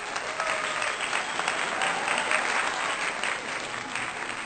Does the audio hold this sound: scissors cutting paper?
no